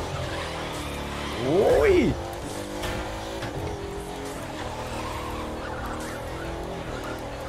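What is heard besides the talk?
all-wheel-drive car drifting in snow in The Crew 2 video game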